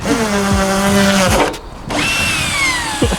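A power drill whines loudly in steady spurts while fitting a body kit to a Mazda MX5 NB, with a short pause in the middle before it revs up again.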